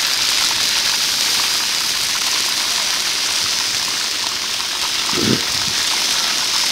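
Ginger garlic paste sizzles in hot oil for a beef botti varuval, a steady loud hiss of frying throughout with a brief low thump near the end.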